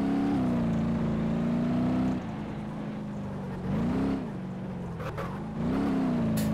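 A car engine in the crash-test video game The DRIVE, a steady droning hum that rises and dips as the car accelerates and eases off, close and alone without any talking.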